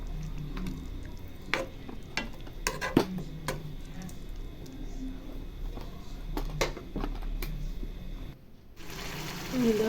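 Mutton green curry paste stirred in a pan with a spoon, giving irregular scraping knocks and clicks over a low, steady background hum.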